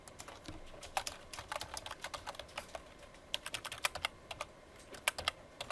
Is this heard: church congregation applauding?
no